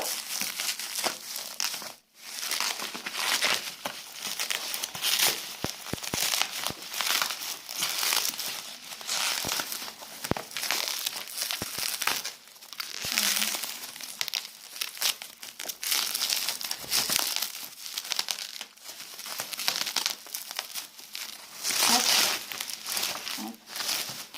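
Crinkly plastic packaging of a Bluetooth joystick being opened by hand, a continuous close rustling and crackling with brief pauses, and a voice occasionally heard under it.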